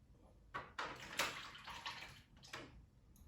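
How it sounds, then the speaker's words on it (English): Fresh varnish pours into a roller paint tray in a few liquid splashing bursts, close and fairly quiet, with short pauses between pours, while preparing to varnish a floor. "Start by pouring the varnish into the tray."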